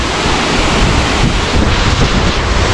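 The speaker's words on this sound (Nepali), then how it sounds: "झरना नै उडाइरहेछ भने है" Roaring waterfall at Charnawoti in Dolakha blowing heavy spray, a loud, dense, continuous rush battering the microphone with wind-like buffeting and no voices.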